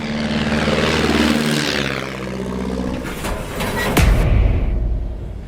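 De Havilland DH-82 Tiger Moth biplane's propeller engine droning loudly nearby, a rough steady roar whose pitch sweeps as it passes, followed by a sharp bang and continued rumble.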